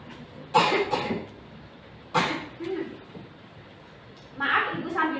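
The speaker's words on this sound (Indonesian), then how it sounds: "Maaf Ibu sambil batuk-batuk ya." A woman in a classroom coughs in three separate harsh bursts, fairly close and moderately loud, with quiet pauses between them.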